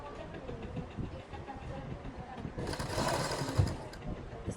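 An electric sewing machine stitches a fabric strip onto a frock sleeve, its motor whirring in a steady, continuous run that grows louder and busier toward the end, with a faint voice in the background.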